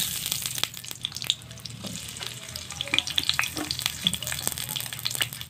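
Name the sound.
sliced potatoes frying in oil in a wok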